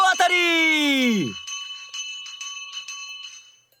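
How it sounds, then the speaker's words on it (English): A hand bell rung loudly to announce a first-prize win at a lottery draw, a bright sustained clang that decays, followed by several quicker repeated rings. "he started ringing the bell"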